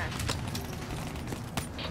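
Gunfire in the Black Ops 3 campaign, rapid sharp shots cracking in short bursts over a dense background of game noise, moderately loud.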